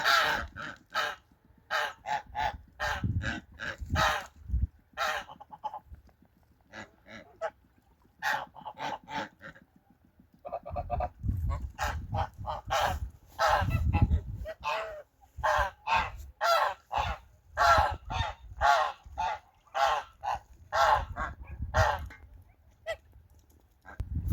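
A flock of domestic geese led by a gander honks in a farmyard, with repeated loud, overlapping calls that come in bursts and brief lulls, close by and without speech.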